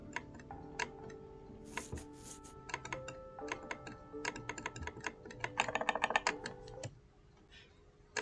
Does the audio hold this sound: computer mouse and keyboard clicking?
yes